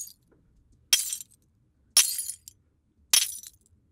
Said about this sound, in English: And some of the glass small destructions.